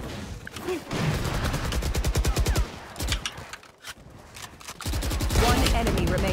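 An SMG in a tactical shooter video game fires in rapid automatic bursts, loud and close, broken by short pauses. Other game sounds mix in around the shooting.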